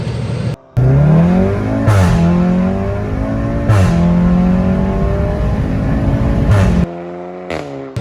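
An automatic car with an aftermarket exhaust runs loudly throughout, rising in pitch, with three or four sharp burps as the fuel cuts on each gear shift; there is no talk.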